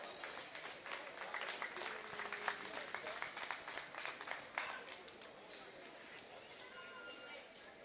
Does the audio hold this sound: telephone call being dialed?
no